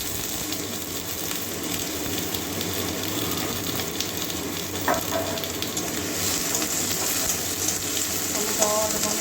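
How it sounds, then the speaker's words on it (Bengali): Potatoes frying in hot oil for a Bengali okra-and-poppy-seed dish, giving a steady, fairly loud sizzle throughout with a few brief clinks partway through and no speech. "তেলের মধ্যে আলুটা ভেজে নেব"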